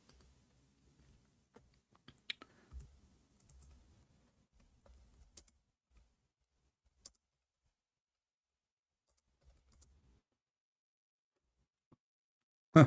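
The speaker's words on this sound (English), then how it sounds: "I'm typing in English." Sparse, quiet keystrokes on a computer keyboard, a few scattered clicks and short runs of typing separated by long silent gaps, ending with a louder click.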